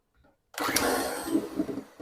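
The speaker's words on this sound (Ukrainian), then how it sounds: "Спочатку збиваю на маленьких оборотах, а потім обороти збільшую." An electric hand mixer whisking egg whites with salt, lemon juice, sugar and vanilla sugar for a Kyiv cake kicks in abruptly after a faint knock, then whirs steadily and loudly at close range with slight wobbles in pitch.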